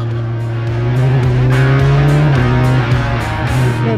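A Formula 4 race car engine revs hard and climbs through gears with sharp shifts, a loud buzzing close-up onboard roar that stays dense from start to end.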